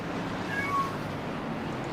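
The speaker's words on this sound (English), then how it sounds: "I hear a cat" A cat gives a brief, thin meow, faint and distant, over a steady broadband rumble of background noise in a truck racing setting.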